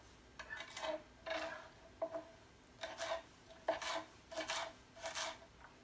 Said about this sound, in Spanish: Continúo cortando todos mis vegetales